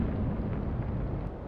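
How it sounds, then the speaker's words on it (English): Explosion in the naval combat game Atlantic Fleet, a heavy low rumbling boom that rolls on steadily for over a second, loud and dense with no talk over it. "Big explosion there."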